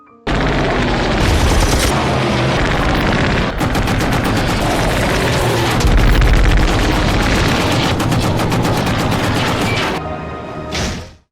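German fighter planes attack a warship in a film battle scene, with loud, continuous rapid machine-gun fire, heavy booming explosions and dense roaring noise that cuts out briefly near the end before one last burst.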